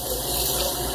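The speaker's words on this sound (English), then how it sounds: "I use a little salsa bowl to slush the razor in, so I don't have to constantly run the water." Water sloshing as a razor is swished in a small salsa bowl during a head shave, a short close watery swirl with a steady wash and no talk.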